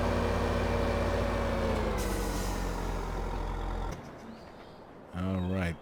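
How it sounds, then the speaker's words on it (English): Air brake on a truck in a video game being set while parked at the roadside: a steady engine rumble cuts off, then a short loud burst of pneumatic hiss and release near the end. "All right, parking brake on."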